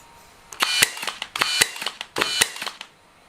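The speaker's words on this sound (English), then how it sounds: "the 18 gauge Ridgid nailer is the same way with little recoil when shooting" A Ridgid brushless 18 gauge nailer fires three nails, each shot a sharp snap followed by a short clattering decay, evenly spaced and loud at close range with no talking.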